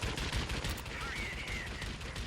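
Rapid bursts of 20mm cannon fire from a Mitsubishi A6M1 Zero fighter in the World of Warplanes game, a continuous rattling stream over engine drone, with a rising whine partway through.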